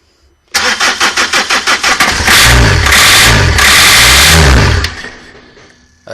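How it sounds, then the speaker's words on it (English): A 2003 Renault Laguna 1.9 dCi diesel that will not start is cranked over by its starter: a loud, close run of rapid rhythmic churning pulses that settles into a sustained whirring crank, then cuts off with no firing. "when you're ready, Phil, can you spin the engine over please?"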